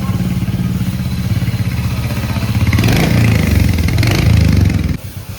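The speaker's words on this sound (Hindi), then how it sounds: "लेके जा रहे हैं अंदर बाइक को।" A Royal Enfield Hunter 350 motorcycle engine thumps steadily close by as the bike is moved into a service workshop, rising in intensity for a couple of seconds before cutting off abruptly.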